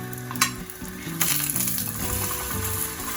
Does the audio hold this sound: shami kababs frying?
yes